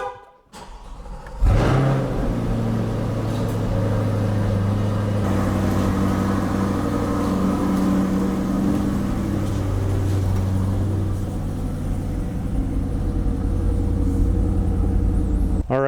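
A Corvette C8 pulls outside on an overcast day, its engine starting with a sudden roar and then holding a loud, steady low rumble close by for most of the clip, with no talk.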